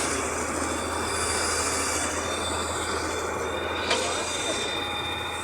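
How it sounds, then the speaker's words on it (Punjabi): A train at a railway station rumbles loudly and steadily with a thin high wheel squeal running over it, and a brief clank near the end. "ਆ ਇੱਥੇ ਲੱਗੀ ਖਲੀ ਆ ਜੀ ਟ੍ਰੇਨ"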